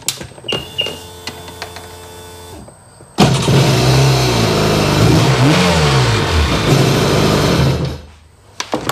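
Clicks and beeps give way to a Sea-Doo GTX DI personal watercraft engine starting loudly, then revving up and down in several surges before cutting off.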